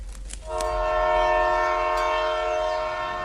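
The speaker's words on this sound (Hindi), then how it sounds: "ट्रेन के हॉर्न की उसे आवाज आई।" A loud, sustained train horn blares over the rumble of a passing train, holding steady for several seconds.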